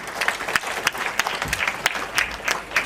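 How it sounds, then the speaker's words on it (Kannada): Audience applause at a Yakshagana performance event in Dubai, a brisk crowd clapping with several sharper individual claps standing out from the steady rattle. "ಅವರಿಗೊಂದು ದೊಡ್ಡ ಚಪ್ಪಾಳೆ"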